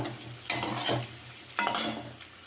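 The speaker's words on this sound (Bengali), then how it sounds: "আলুটা সিদ্ধ করে রেখেছিলাম আলুটা ভাজা হচ্ছে" Boiled potatoes fry in an oiled pan, with a soft sizzle broken by two distinct scraping stirs of a utensil against the metal, close and alone.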